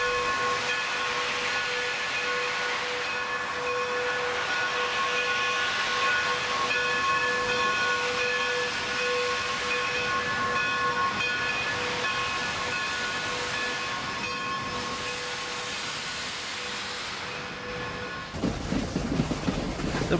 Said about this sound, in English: the engineer opened the cylinder cocks and left for the main passenger terminal